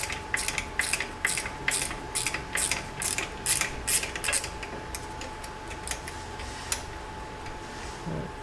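Ratchet wrench clicking in quick repeated bursts while loosening a brake caliper bolt during a brake pad swap on a Chevrolet Camaro SS 1LE, close and fairly loud with a steady background hum.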